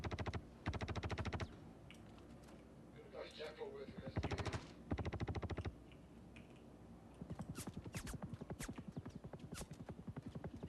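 Rapid automatic gunfire from the Star Citizen video game in several sharp bursts with gaps between them, followed by a longer run of evenly spaced shots near the end, loud and close.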